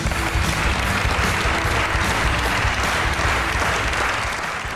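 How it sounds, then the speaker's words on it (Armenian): Dense, sustained applause from a live audience fills the space, steady and loud throughout with no voices on top, greeting a singer who won a folk singing contest on a television show. "խնդրում եմ բարձր ծափարեք ժողովրդական երգիչ նախագծի հաղթող երգչուհի Հայկոյի Բաբախանյան"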